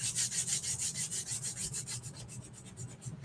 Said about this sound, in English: I'm going to give this surface just a tiny bit of sanding.